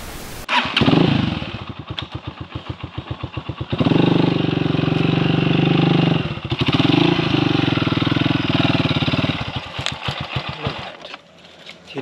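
A motorcycle on a jungle ride near Shankhapur Palubari revs loudly up close, its engine chugging and surging through rough terrain, then easing off near the end.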